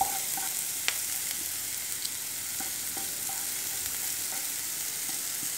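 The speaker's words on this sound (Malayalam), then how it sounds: "അപ്പോൾ നമുക്കിനി മുട്ട ഇതിലേക്ക് ചേർത്ത് കൊടുക്കാം" Egg goes into lightly fried onions in a pan for egg thoran, with a steady moderate sizzle and a few sharp clicks and taps of a utensil against the pan.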